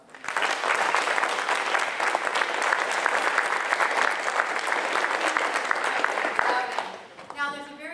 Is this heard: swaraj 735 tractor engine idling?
no